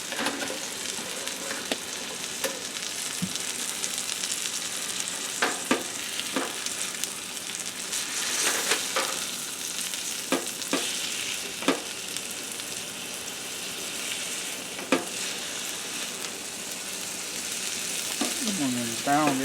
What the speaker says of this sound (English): Onions down, get in there, fry up.